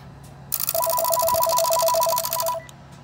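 A Western Electric 500DM telephone's ringer clapper with the bells removed gives a single burst of fast, buzzy mechanical rattling lasting about two seconds, loud and close, then stopping abruptly.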